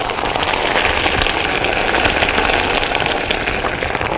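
Water gushes in a steady, loud stream as a little more is poured into food being cooked. The rushing, splashing wash holds without a break, with no voices.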